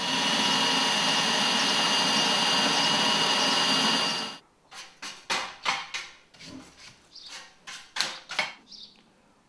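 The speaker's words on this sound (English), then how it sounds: "so we can drill all the rest of the holes perfectly accurately" A power drill whirs steadily for a few seconds while drilling holes in a metal chassis panel, then stops and gives way to a run of short, sharp bursts of drilling, close by.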